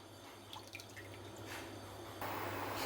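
Water from a cup poured into a pan to make rice flour dough for modak shells, a soft splashing that swells into a steadier, louder pour near the end, close and alone.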